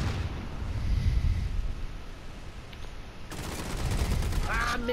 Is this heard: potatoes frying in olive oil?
no